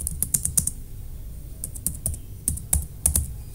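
Typing on a computer keyboard: quick, close, quiet clicks of keys in irregular bursts with short pauses between groups of keystrokes.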